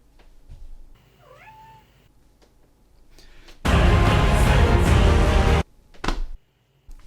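A cat that had been shut alone in an apartment for about three weeks meows once, briefly, in a quiet room, followed by a louder burst of rustling handling noise and a thump.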